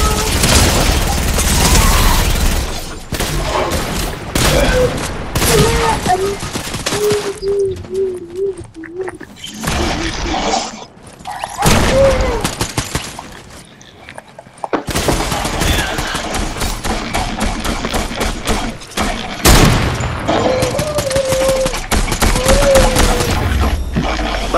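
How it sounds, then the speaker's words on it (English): Gunfire in the video game Fortnite: repeated loud bursts and rapid volleys of shots through most of the stretch, broken by a few brief lulls, with other game sounds mixed in. "who the fuck is shooting me?"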